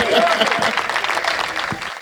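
Audience applause during a humorous talk, a dense burst of clapping from the crowd that fades toward the end, with some voices mixed in.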